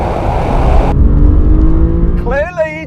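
Alfa Romeo Giulia QV, BMW M3 and Mercedes-AMG C63 S launching off the line in a drag race, a loud sustained engine roar that steadies into a high drone, with a voice cutting in near the end.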